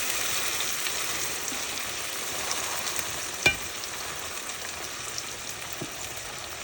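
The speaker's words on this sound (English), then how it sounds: "You want to focus on browning the meat and not the veggies." Oxtail pieces sear and brown in a hot pan with a continuous, even sizzle up close, one sharp tap midway and a faint click later.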